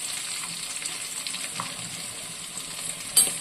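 Onions sizzle steadily in hot oil in a pan after whole spices go in for a kuzhambu, a close, even frying hiss that continues throughout, with one brief clink near the end and no voices.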